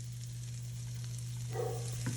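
Carrots, onions and celery fry in oil in a pan for a shepherd's pie filling, giving a steady, close sizzle over a low hum, with a few stirring scrapes near the end.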